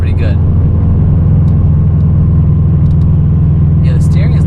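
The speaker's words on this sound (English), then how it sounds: "Subarus always have that typical rumble that I keep saying about, but it sounds good" A 2013 Subaru WRX hatchback rumbles steadily from the cabin while driving, a loud low engine drone that holds constant throughout, with brief bits of voice near the start and end.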